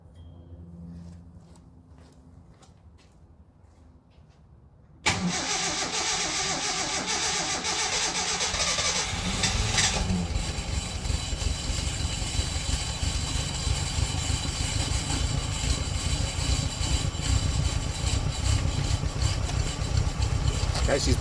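A 1968 Datsun 1000 shed find cranks and fires after a quiet pause, then settles into a loud, steady, slightly rough idle that carries on without a break close by.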